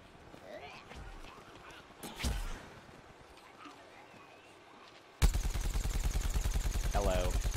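Rapid gunfire from the Plants vs Zombies Garden Warfare shooter, a loud dense burst of repeated shots that starts abruptly past the midpoint and runs to the end, after a quieter stretch of game ambience with a few isolated thumps.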